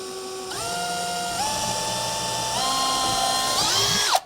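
A power drill whines at high pitch while drilling straight down through a wood board, its tone stepping up several times as it works, then stops abruptly.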